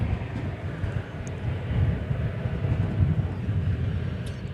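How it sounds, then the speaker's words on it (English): Deep steady jet engine rumble of a Boeing 787 Dreamliner at DFW Airport, a continuous loud roar with no speech. "is this Dreamliner, which is going to Haneda Airport in Tokyo"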